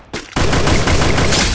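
Dense, loud automatic gunfire from the Free Fire mobile game, a rapid continuous burst of shots that runs unbroken for over a second just after a brief quieter lead-in.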